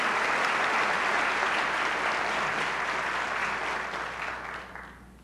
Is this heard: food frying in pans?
no